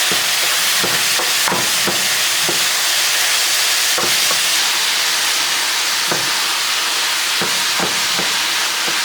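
Food frying in a pan for keto mash potatoes gives a steady close sizzle and hiss throughout, punctuated by occasional sharp scrapes or clicks of stirring.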